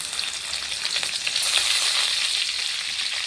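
Green chillies sizzle in hot ghee in a pan, a steady, close, bright frying crackle that swells slightly midway and holds throughout with no voices.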